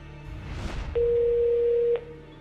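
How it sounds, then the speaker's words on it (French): A single steady electronic tone sounds for about a second over a low background hum, like a phone line ringing once. "Au même instant, Christophe Moulin tente de le joindre sur son téléphone portable."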